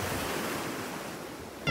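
Sea waves wash up steadily on Morjim Beach in Goa, a continuous close-by surging rush with no voices.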